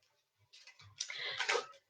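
A deck of tarot-style cards is shuffled close by, giving a soft, quiet run of riffling clicks and flutters.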